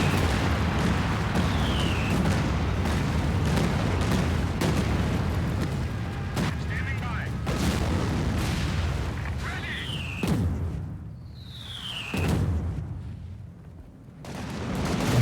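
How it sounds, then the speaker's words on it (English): Artillery bombardment in the war game Company of Heroes 2: repeated booming blasts and crackling bursts spread across the scene, some near and heavy, others fainter, over a constant rumbling battle bed with occasional whistling shells. "They continue to bombard us at every opportunity."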